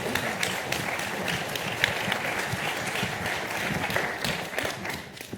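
Steady applause from an audience at a panel talk on urban tree canopies, dense clapping that holds throughout and fades slightly at the end.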